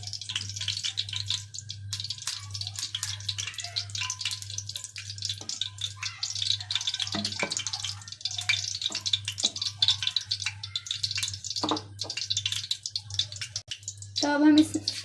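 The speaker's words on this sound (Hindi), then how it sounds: "तो कढ़ाई मैंने रख दी थी, अब हम इसमें ऑयल डालते हैं।" Cooking oil poured into a kadai for heating, heard as close, light splashing and dripping in irregular bursts over a steady low hum.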